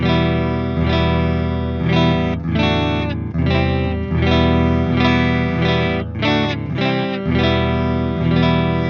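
Clean electric guitar chords from a Fender MH-500 Metalhead ring through an amplifier, strummed in a steady rhythm with sustained, full tones and a touch of room ambience.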